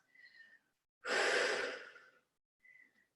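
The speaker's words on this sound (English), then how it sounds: "One more deep breath in through your nose, exhale through your mouth." A single long, deep exhale through the mouth during a hatha yoga session, close and breathy, lasting about a second with near silence around it.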